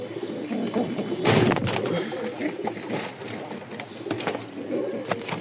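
Giribaz pigeons at a farm coo in soft, repeated throaty calls, with a few sharper bursts of movement and voices talking in the background.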